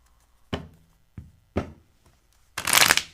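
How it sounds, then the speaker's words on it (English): An old tarot card deck, unused for years, is handled and shuffled close up: three sharp card riffles or taps, then a longer, louder riffle at the end. "Let's see how this shuffles."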